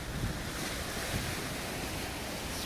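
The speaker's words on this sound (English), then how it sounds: "It's also got a bit of character when the water's high and it's throwing itself around everywhere" Floodwater of the River Ouse at Barcombe Mills, running high and rushing beneath a bridge, makes a steady, loud, broadband roar that stays constant throughout, mixed with some wind buffeting on the microphone and with no voices.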